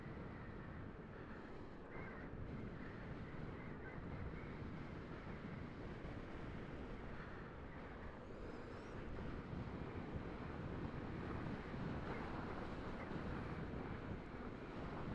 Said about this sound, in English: Real gusts out here.